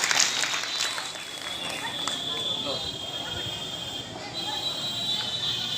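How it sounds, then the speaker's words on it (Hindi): An audience at a formal gathering claps in a steady broadband patter that runs throughout, partly masked by someone speaking over it in a hall. "ताली बजाइए।"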